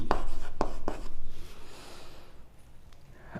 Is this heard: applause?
no